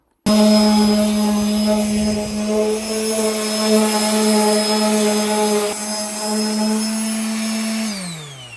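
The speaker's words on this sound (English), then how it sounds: "Dave is using an Orbital sander" Orbital sander running steadily for about eight seconds, a loud close whirring drone with a strong steady tone and harmonics that starts abruptly and winds down at the end, with no one talking.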